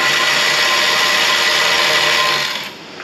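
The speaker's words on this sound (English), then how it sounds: "when I get a ratchet on it" A ratchet working a 17 mm caliper bracket bolt during a brake job on a 10th-generation Honda Civic gives a steady, loud, continuous mechanical whirring and rasping close by, easing off near the end, with no talk.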